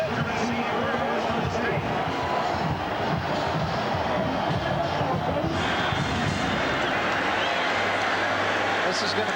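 Loud, dense crowd roar fills a stadium at a 1996 Nebraska at Arizona State college football game, a steady wash of cheering and babble that swells slightly after midway, with a commentator speaking over it.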